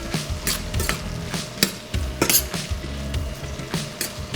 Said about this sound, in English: I'm going to throw in my sugar and vanilla. I'm going to go ahead and mix that in.